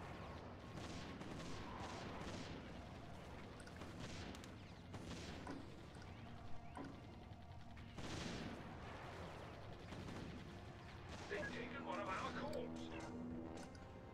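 Cannon towers in the tower-defense game Defense Grid fire repeated booming shots in irregular bursts, faint and low in level. Other game effects sound around them, with a chime near the end.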